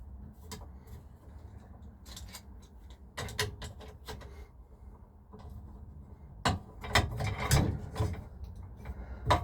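A knife blade is clamped onto a grinding jig, with scattered clicks, knocks and metallic rattles of handling and tightening, close and fairly quiet, loudest in a cluster near the end.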